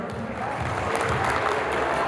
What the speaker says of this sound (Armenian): ծափերը բարձր